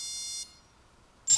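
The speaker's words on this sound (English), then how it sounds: "Once you hear the beeps, you're going to move your throttle stick all the way down to 0." Electronic tone from a drone's ESC during throttle calibration: a steady high beep sounds for about half a second and stops, then a second bright beep starts at the very end after a quiet gap.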